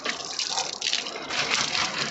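Water gushing steadily from a tap into water cans during a morning walk, a continuous close splashing rush with no talk.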